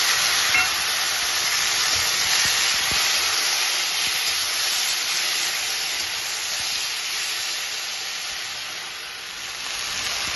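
Ground ginger and tomato paste sizzle in hot oil already tempered with cumin and bay leaf, a steady bright hiss that holds evenly for about ten seconds with no voices.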